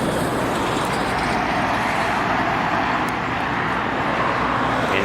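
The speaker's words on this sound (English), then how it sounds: "loud traffic" Loud road traffic close by, a dense continuous roar of passing cars and heavier vehicles with broad tyre and engine noise that barely varies over the whole stretch.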